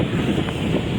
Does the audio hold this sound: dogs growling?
no